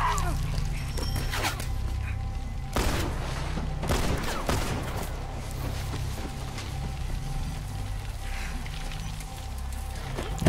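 Scattered gunshots ring out in a console video game shown at a live PlayStation showcase, a few sharp reports standing out over a steady noisy background with brief crowd-like reactions.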